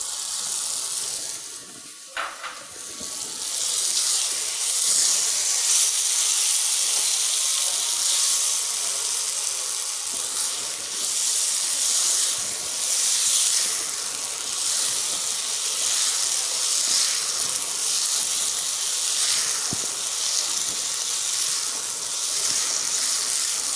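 Soya chunks and vegetables sizzle in a hot pan in a kitchen cooking show, a steady loud hiss that runs unbroken from start to finish with no talking over it.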